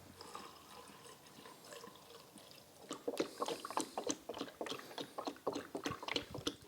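Distilled water, then antifreeze, is poured into the cooling system of a Jaguar XJ6 4.2-litre engine: a quiet gurgling, splashing trickle that grows busier and more uneven midway, with no talk.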